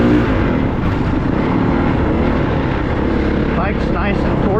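A 450 dirt bike engine runs hard on a single-track trail, giving a loud, steady, close-up drone with no breaks.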